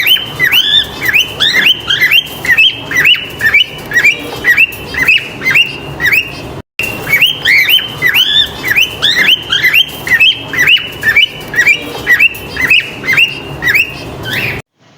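A male cockatiel parrot gives repeated rising whistled calls in quick bursts, loud and close. The phrases repeat in a clear pattern, broken by one short pause.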